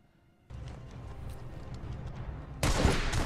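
Gunfire erupts in the His Dark Materials season finale: a quiet lead-in gives way to a rumbling burst, then a sudden loud, dense volley of shots at the end.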